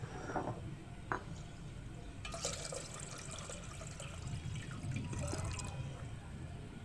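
Water pours into a cooking pot to boil macaroni for a chicken macaroni dish, a steady close trickle and splash with a few drips, no talking.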